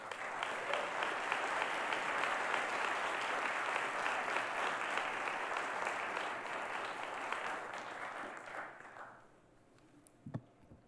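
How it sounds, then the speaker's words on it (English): A conference audience at a state political forum breaks into a dense, sustained round of applause that holds steady for about nine seconds, then fades out into a quiet room. "So I hope you give him a nice round of applause."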